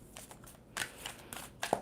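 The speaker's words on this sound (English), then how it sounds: "2 more shuffles for Virgo, please." A deck of tarot cards is shuffled by hand, giving a series of quick papery riffles and taps in short irregular bursts, close and fairly quiet.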